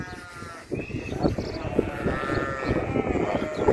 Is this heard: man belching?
no